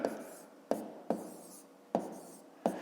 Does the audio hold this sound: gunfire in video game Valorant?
no